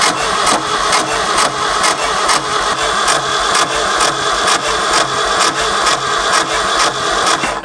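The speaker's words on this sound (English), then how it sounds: "we're just gonna crank it over, let the fuel pump do its thing, and hopefully might take a moment, but there it goes" A Ford F250 engine cranks with a rhythmic, pulsing churn and then roars continuously after sitting for 26 years, loud and close throughout.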